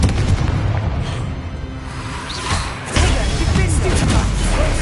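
Explosive spell blasts in a Hogwarts wizarding video game, booming bursts and crackling debris layered with rumbling impacts, loud and close, with a sharp new blast partway through.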